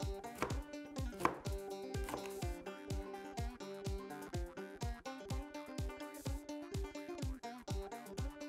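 A knife cuts broccoli into small florets on a board, a quick regular series of sharp chopping taps, close and steady with no voices.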